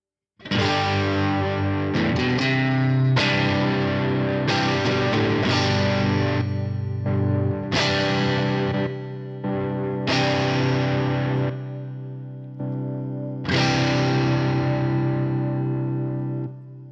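An electric guitar played through a Maxon OD808 overdrive pedal set mild, ringing chords struck one after another and left to sustain and fade, loud and close with no talking.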